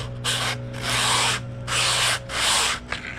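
Sandpaper rubbed back and forth along a wooden rail, four long, loud abrasive strokes in steady rhythm with brief pauses between, close up and alone.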